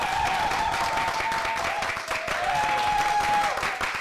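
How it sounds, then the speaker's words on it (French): A television studio audience applauds a guest, a dense, steady wash of clapping from a sizeable crowd that stays loud throughout, with a sustained musical tone running underneath. "Je vous demande d'applaudir Nasser."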